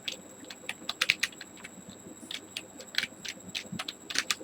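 Quick, light clicks of typing on a computer keyboard, with uneven bursts of keystrokes coming close and fairly quiet over a faint steady background hum.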